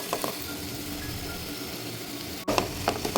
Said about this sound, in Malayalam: ഇനി ഇതൊന്ന് നന്നായിട്ട് ഇളക്കി കൊടുക്കാം.